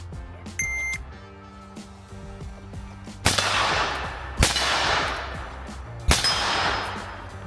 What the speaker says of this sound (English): I'm going to do 3 consecutive shots at the gong